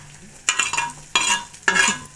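Cluster beans (gavar) being stirred and roasted in a pan, three distinct bursts of scraping and sizzling spaced about half a second apart over a faint background hiss, no voices.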